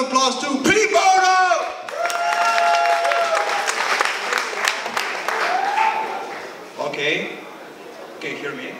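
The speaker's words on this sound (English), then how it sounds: "massive round of applause to pPhoto!" A crowd applauds a startup team at a pitch-event final, loud clapping with a few shouts and whoops, mixed with voices and a short whistle-like tone, fading down toward the end.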